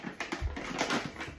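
A dog in Madrid's Retiro Park gives a few short, close barks mixed with faint whimpering.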